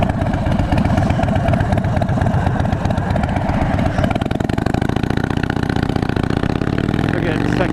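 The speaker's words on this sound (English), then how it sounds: "So this is the A version of the Harley motor, which means it doesn't have the counterbalancers in the lower end." A 2013 Harley-Davidson Dyna Super Glide with its stock 96-inch motor, a version without counterbalancers, runs loud and close, a steady throbbing clatter that swells as the engine revs partway through.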